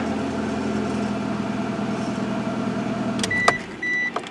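A Ford Escort's four-cylinder engine idles steadily just after starting, a low even hum close by, broken near the end by a couple of sharp mechanical clicks and a brief higher whine.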